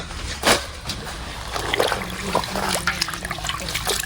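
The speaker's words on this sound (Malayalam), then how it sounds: "നമ്മളെ ഇലകളൊക്കെ കഴുകി വൃത്തിയാക്കി" Water trickles and splashes close by as leaves are washed for cooking, with a louder splash near the start and then steady dribbling and swishing sounds.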